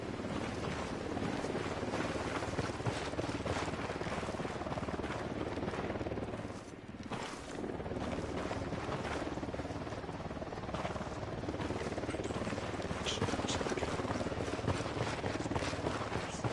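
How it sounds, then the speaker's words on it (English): A helicopter approaches in the tactical shooter video game Ghost Recon Wildlands, a loud, steady rotor roar with wind-like rushing that dips briefly midway and then continues. "Chopper incoming."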